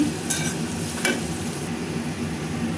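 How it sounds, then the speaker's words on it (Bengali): Onions fry in a pan with a steady, soft sizzle, broken by two quick scraping strokes of a spoon stirring them early on. "যে পেঁয়াজটা লাল লাল হয়ে গেল ভাইজে নিলাম ভালো করে"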